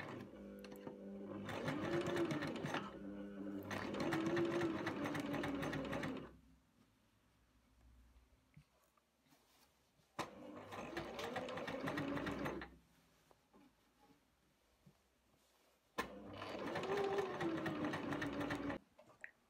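Three bursts of a sewing machine stitching a blouse seam one centimetre from the fabric edge, each run lasting a few seconds with quiet pauses of handling between them.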